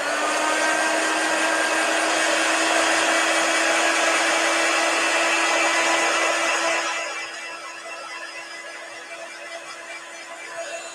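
A hair dryer blows steadily on a chalk-paste design on a 9x9 box frame sign, a loud continuous whir that drops to a quieter, lower setting about two-thirds through, with no talking.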